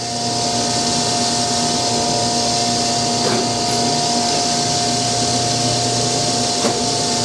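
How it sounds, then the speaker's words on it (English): A grinding machine hums steadily at fine feed while sparking out, a loud continuous whine with tonal motor drone and a couple of faint brief clicks, no talk. "Down to the fine feed, sparking out."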